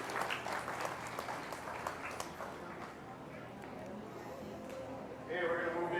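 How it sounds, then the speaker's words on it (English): Spectators at a 2019 beef show clap for an exhibitor circling the show ring. The applause is fairly loud at first, thins out over a few seconds, and then a voice starts talking near the end. "if we could give her a round of applause as she comes around the ring here"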